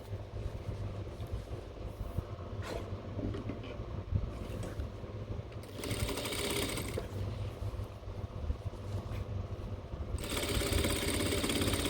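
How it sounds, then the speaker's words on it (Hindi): Sewing machine stitching a half-inch folded hem on cargo pants, a steady close mechanical whir running throughout with brief bursts of brighter rattling as the needle drives faster. "तो इसको हम पहले अब स्टिच कर लेते हैं, जो हमने ½ इंच का फोल्ड किया है।"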